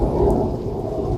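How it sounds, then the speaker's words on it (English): A thunderstorm with a tornado warning in effect, heavy rain pouring steadily and a deep thunder rumble rolling underneath, loud and continuous throughout. "And I'm sure you can hear the thunder."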